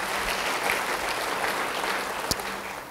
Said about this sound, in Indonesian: Yang bisa beri tepuk tangan yang baik bagi dia.